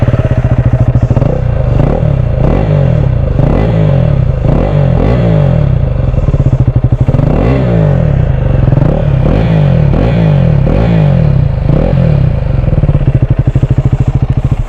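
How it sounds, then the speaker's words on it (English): A motorcycle with a deep, throaty aftermarket exhaust, dB killer removed, revs steadily and loudly up close, its rumbling note pulsing and rising in repeated surges. "So that is the exhaust note."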